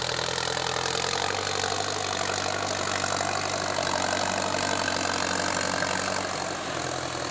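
A Ford 6610S farm tractor engine runs steadily nearby in low gear, a continuous low rumbling drone with no pauses and no voices.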